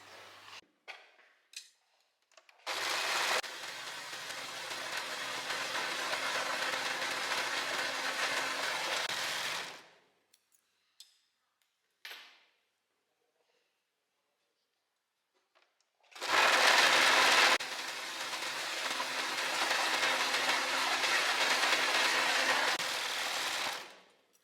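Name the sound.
overlocker sewing machine overlocking bedsheet lining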